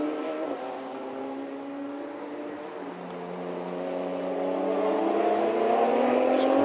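A Radical race car at the Jerez circuit accelerates at a distance, its engine note rising steadily in pitch and growing a little louder over several seconds, a continuous droning whine with no talk.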